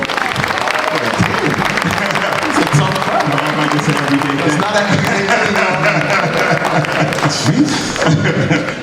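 An audience at a conference panel claps steadily throughout, with scattered chuckles and crowd murmur under the applause.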